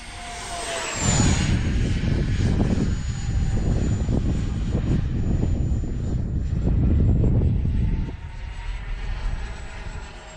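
An FMS Integral 80mm RC jet flies at full speed, its steady, loud turbine roar and high whine sweeping past in a sustained pass.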